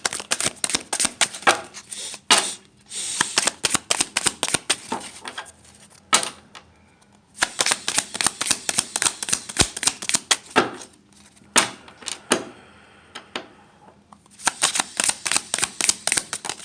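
Tarot cards shuffled in rapid riffling bursts, crisp, close and loud, separated by short pauses where the deck is squared up before another run of flicks.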